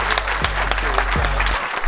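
Audience applause at ComplexCon, a sneaker and streetwear convention, a dense steady wash of clapping from a crowd filling the whole stretch, loud and close with no talk over it.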